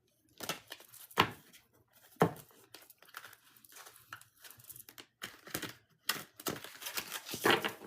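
A deck of tarot cards is shuffled by hand in a run of quick, papery riffling bursts with short pauses between them, close and fairly soft, with no talking.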